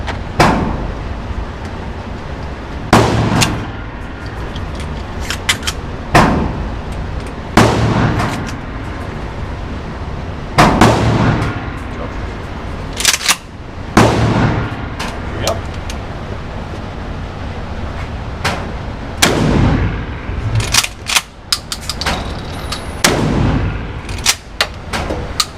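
A shotgun fires standard buckshot in several loud, booming blasts spread out over time, with someone talking between the shots.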